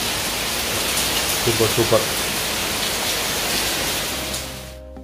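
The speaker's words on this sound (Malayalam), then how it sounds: "പുറത്ത് നല്ല മഴ പെയ്യുന്നുണ്ട്" Heavy rain falls outside in the morning, a dense steady wash of noise, with a person briefly speaking over it before it fades near the end.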